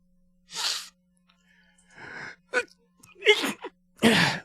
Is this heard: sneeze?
yes